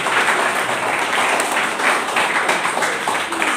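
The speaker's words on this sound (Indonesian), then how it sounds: "tepuk tangan buat Tuhan Yesus" A church congregation claps together for Jesus, producing a dense, loud, sustained wash of applause from many hands indoors with no talking over it.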